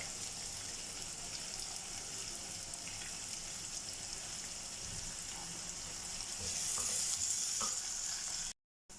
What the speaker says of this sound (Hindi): प्याज देखिए मेरा ब्राउन होना शुरू हो गया है।